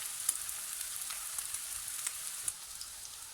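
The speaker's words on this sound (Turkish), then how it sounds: "Böyle köftelerimi de güzelce kızartacağım." Meatballs sizzle and crackle steadily in a hot pan, with small pops scattered through the quiet, even frying sound.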